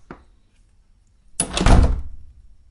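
A door slammed shut, a faint knock at the start followed by one loud, sharp slam that rings out briefly before fading.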